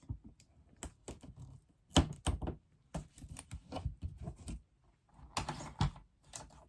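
Tape is pressed onto the corners of an MDF sublimation plaque, making close, irregular taps, ticks and soft crinkles in quick bursts with brief gaps.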